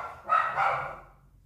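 A female dog barks indoors, sounding muffled and moderately distant. One or two drawn-out, harsh barks run together and then fade away.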